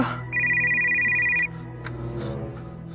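A telephone gives a single clear electronic ring lasting about a second, close and fairly loud, before quieter room sound takes over.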